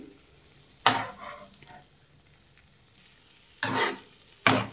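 Eggs cooking in a pan for spicy egg pepper dry, a soft low sizzle broken by three loud close scraping stirs of a spatula against the pan, with no talk.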